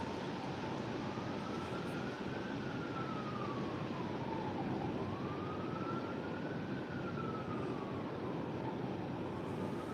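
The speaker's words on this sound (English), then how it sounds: "Hear the sirens?" A distant siren wails in slow rising and falling sweeps over a constant loud background rumble, with no voices.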